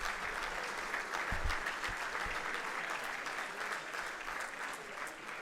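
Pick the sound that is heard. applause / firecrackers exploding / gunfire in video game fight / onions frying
applause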